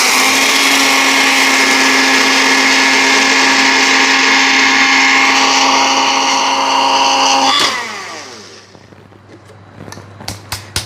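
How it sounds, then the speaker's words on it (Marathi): An Agaro blender grinds bakarwadi spice masala with red chutney powder and salt into a fine powder. The loud, steady motor whine runs alone for about eight seconds, then cuts off, leaving a few faint knocks and rattles. "बाकरवडीचा हा मसाला तयार करण्यासाठी मी अगारोचा हा ब्लेंडर वापरलेला आहे"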